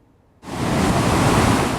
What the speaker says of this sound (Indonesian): pantai ini punya ombak yang tinggi